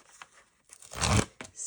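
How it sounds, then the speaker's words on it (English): Foam tape for card making being pulled and torn off its roll, a brief close ripping burst after a couple of faint small crackles, then a short quieter tear. "And out with the foam tape."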